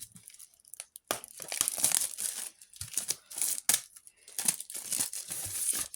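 Wrapped art canvas being unpacked, its plastic packaging crinkling and tearing in close, irregular bursts of rustling with brief pauses between handlings.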